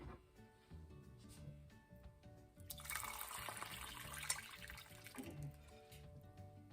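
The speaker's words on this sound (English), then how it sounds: "so now we're going to pour our mixture in there" Liquid mixture poured into freshly mashed potatoes for a creamy garlic recipe, a soft splashing pour rising in the middle and fading, heard over quiet kitchen background with no talk.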